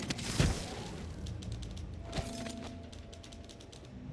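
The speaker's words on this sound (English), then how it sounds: "I hear some typing." Typewriter being typed on in Dishonored 2, faint and somewhat distant: quick runs of sharp mechanical clacks with a couple of louder knocks, over a soft ambient game background.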